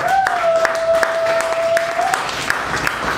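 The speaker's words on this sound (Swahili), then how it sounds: "Hebu tuwapigie makofi hao watu jamani" A church congregation claps during a worship service, with scattered, sharp hand claps at moderate distance over a sustained musical tone.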